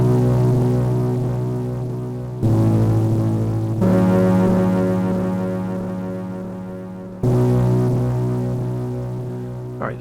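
A bass patch from an Arturia MicroFreak synthesizer, its wave shaped by a cycling envelope, drones steadily for ten seconds, retriggering a few times with repeating swells and a throbbing, buzzing low tone.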